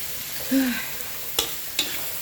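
Mushrooms and long beans being stir-fried in a pan, a soft continuous sizzle with a couple of sharp spatula clinks against the metal, close by.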